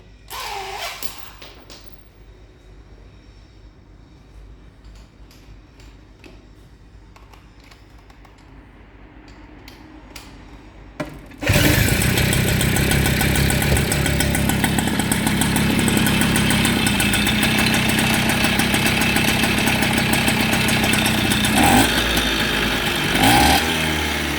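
A Peugeot scooter after an Airsal T3 cylinder rebuild, quiet workshop clicks and handling at first, then the engine abruptly starts and runs loud and steady with a fast buzzing idle, close, for the rest.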